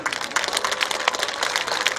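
Audience applause at the opening ceremony of the 9th Icheon Ginseng Festival, a dense steady wash of many hands clapping at moderate distance for about two seconds, with no talking over it.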